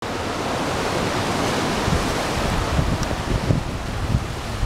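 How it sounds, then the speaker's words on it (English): Strong wind blows outdoors in Hawaii, a loud, continuous broadband rush with gusty buffeting against the microphone that swells slightly toward the end. "And it is getting windy."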